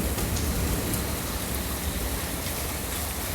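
Steady rain falls in a continuous hiss close by, even and unbroken throughout with a broad wash of patter and no other sounds.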